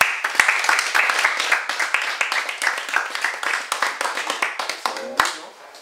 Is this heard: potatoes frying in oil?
no